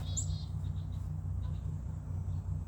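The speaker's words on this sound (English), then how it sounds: "Oh, we got Mr. Chickadee and the suet cake." A chickadee calls at a suet cake feeder: one or two quick, high chirps near the start, then a few faint notes over a low background hum.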